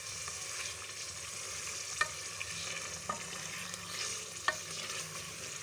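Masala with boiled potatoes sizzles and fries steadily in a pan at low volume, with a few faint scraping clicks from the stirring spoon and no one talking.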